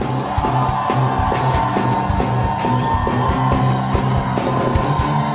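A packed church congregation shouts and cheers together at a loud, steady level, with overlapping yells and whoops over a dense, rhythmic backdrop of music and voices.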